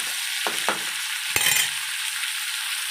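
Vegetables for a spicy chutney, chow chow, ridge gourd and beetroot, sauté in a little sesame oil, a soft continuous sizzle punctuated by a few brief stirring scrapes and clinks.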